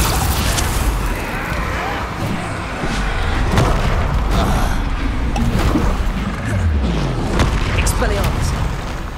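Bombarda explosion spell cast during combat in Hogwarts Legacy, several booming blasts landing amid ongoing battle noise, with a voice calling out spells over the top.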